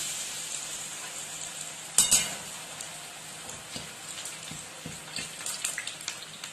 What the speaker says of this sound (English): now the oil has warmed. Now we will put fries for frying.